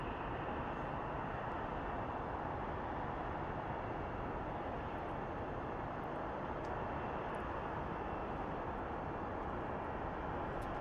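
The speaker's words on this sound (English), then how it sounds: "right now we have a Southwest that is taxiing in" A Southwest Airlines airliner taxis in at Phoenix Sky Harbor International Airport at night, a steady, dense engine rumble held at moderate distance.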